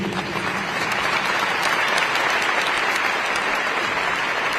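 Sustained applause fills the hall at the National Archives as an audience claps after Ukrainian President Volodymyr Zelenskyy's remarks, a dense, even wash of many hands with no break.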